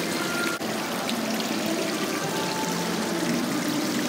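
Water pours and splashes steadily in an indoor shopping mall fountain, a continuous broadband rush with no pauses, heard close and fairly loud throughout with faint mall ambience behind it.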